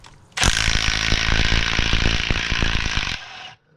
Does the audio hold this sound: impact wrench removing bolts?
yes